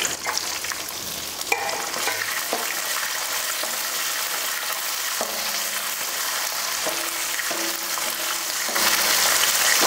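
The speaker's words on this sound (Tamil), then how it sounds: "லைட்டா வெங்காயம் வதங்கிக்கிட்டா போதும்" Onions sautéing in oil with dried red chilli and curry leaves, a steady sizzle and crackle with scraping stir strokes, growing slightly louder toward the end.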